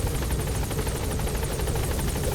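Helicopter in the video game Metal Gear Solid V: The Phantom Pain, its rotor thumping steadily with a dense engine roar that stays loud and continuous throughout, with no talk over it.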